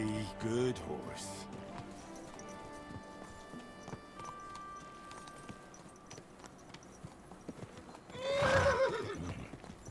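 A horse in a video game whinnies briefly at the start and again more loudly near the end, with soft hoof clops and quiet game sounds in between.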